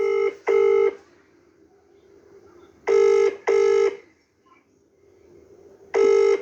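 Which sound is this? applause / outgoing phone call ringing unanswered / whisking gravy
outgoing phone call ringing unanswered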